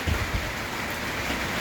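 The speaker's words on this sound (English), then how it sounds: "because it's drizzling out there" Light drizzle falling outside makes a steady, soft, even hiss of fine rain throughout, with a brief low thump at the start and no voices.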